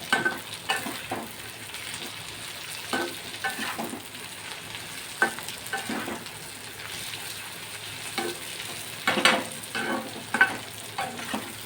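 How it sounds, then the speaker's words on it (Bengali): Grated coconut and sesame seeds dry-frying in a pan, a soft sizzle broken by intermittent scraping stir strokes at an uneven rhythm, fairly quiet and without talk. "নারকেলটা একটু ভাজা হবে, তিলটাও একটু ভাজা হবে।"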